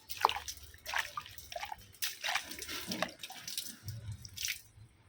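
Fertilizer water showers onto potted flowering plants in bursts, dripping and splattering on leaves and soil in irregular spurts with quiet gaps between them.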